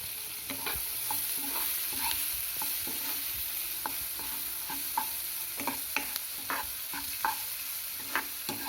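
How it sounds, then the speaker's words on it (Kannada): A chopped medium onion fries in oil in a pan for a sword bean curry, giving a steady soft sizzle broken by frequent clicking stirs of a spoon, close and without voices. "ಇವಾಗ ಚೆನ್ನಾಗಿ ಫ್ರೈ ಮಾಡ್ಕೊಳ್ಬೇಕು."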